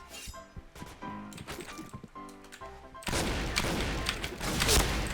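Video game gunfire: scattered clinking and impact sounds with background game noise give way to a louder, dense stretch of rapid shots and booms in the second half.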